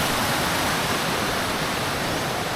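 Clear stream water at a natural swimming spot in Banay-Banay, Davao Oriental rushes in a steady, dense broadband wash close by, with no voices over it.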